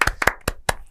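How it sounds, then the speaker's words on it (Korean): A few loud, close handclaps greet a pastor before a church talk, five sharp claps spaced unevenly over a second with no speech between them. "목사님께 박수 부탁드릴게요"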